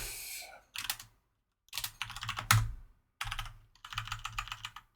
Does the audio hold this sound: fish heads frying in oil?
no